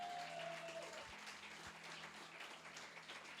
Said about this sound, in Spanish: Dale un momento de un aplauso más por tu hermano